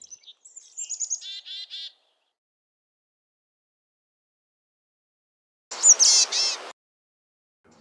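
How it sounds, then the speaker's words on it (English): A black-capped chickadee gives its chick-a-dee call and whistled song in two clear, close bursts of rapid notes separated by several seconds of silence. "chickadee dee dee, call, and cheeseburger, song of the black-capped chickadee."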